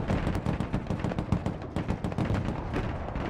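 Dense, rapid gunfire from the video game Broken Arrow crackles almost without pause, with overlapping shots and heavy booms forming a loud, continuous battle din.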